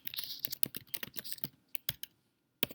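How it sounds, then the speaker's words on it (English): Someone types on a computer keyboard while writing up notes on circles, arcs and central angles, producing a quick, close run of irregular key clicks that thins out into a few separated taps. "let me type this up"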